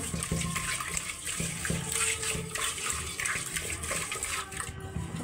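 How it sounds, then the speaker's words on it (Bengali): Hot water runs and splashes steadily over snakehead fish being washed in a container, a continuous close rinsing sound with scattered small sloshes and no talking. "আবার গরম পানি দিয়ে ধুবে"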